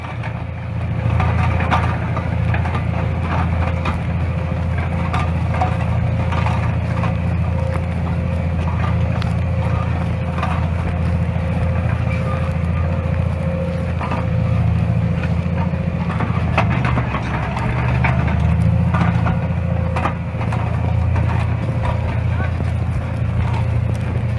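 A Massey Ferguson 8S.205 tractor works a field with a plow, giving a continuous low engine drone with clattering mechanical noise, steady and fairly close throughout.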